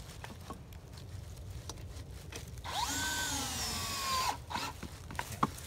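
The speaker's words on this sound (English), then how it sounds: "I'm going to put two lag bolts in just to hold it in place." A power drill whines for about two seconds, driving a one-inch lag bolt into wood on a homemade log cart, with tapping and handling noises before and after.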